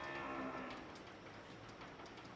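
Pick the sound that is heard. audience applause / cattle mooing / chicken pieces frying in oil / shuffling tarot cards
cattle mooing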